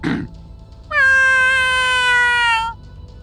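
A person imitates a cat with one long, drawn-out meow that rises and then trails off, clear and close, after a brief noise at the start.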